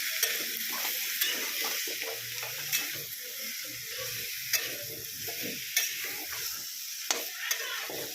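Vegetables and chicken frying in a pan for a homemade chicken stew are stirred with a utensil, giving a steady sizzle with soft scraping and occasional sharp clicks against the pan, close and continuous.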